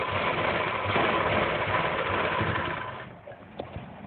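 Sewing machine running steadily while stitching a plazo seam, a continuous close mechanical whir that stops abruptly near the end, followed by a few faint clicks.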